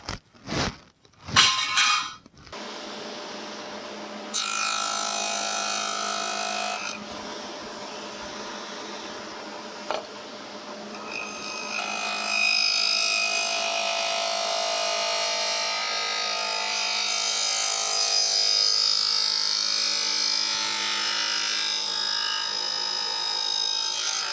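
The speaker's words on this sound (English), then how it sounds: "I've got my dado blade set up on the saw here, so I'm going to cut that with this" Table saw fitted with a dado blade, cutting a groove in redwood: a few sharp knocks give way to the motor's steady whine, and then a louder, rougher cutting roar holds through to the end.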